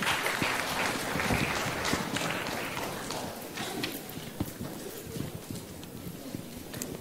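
Audience applause after a panel discussion at an education conference, a dense, broad wash of clapping that is loudest at the start and slowly thins out over several seconds.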